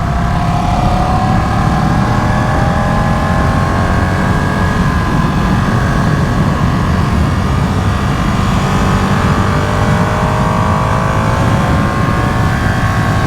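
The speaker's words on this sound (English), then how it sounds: "It has got a really nice sort of growl to it, to the exhaust." Ducati Panigale 959 sport motorcycle exhaust with a high-pitched, aggressive growl, heard up close and loud as the engine revs and pulls steadily with rising and falling tones, no talking over it.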